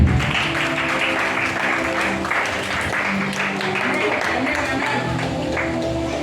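Church congregation applauding steadily for several seconds with scattered cheers and voices mixed in, a dense continuous clapping that fills the space at fairly close range.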